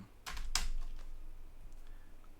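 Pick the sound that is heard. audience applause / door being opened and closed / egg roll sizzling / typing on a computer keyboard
typing on a computer keyboard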